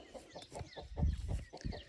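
A brooding hen clucks in a quick run of low, soft, throaty pulses, about a dozen close together, heard near and on its own.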